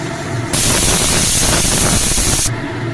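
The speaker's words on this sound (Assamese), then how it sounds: "কুকাৰৰ চিটিয়ে সৈতে একেলগে বাজিছে" A pressure cooker whistle blows a loud, steady rush of hissing steam for about two seconds before cutting off, leaving a softer background.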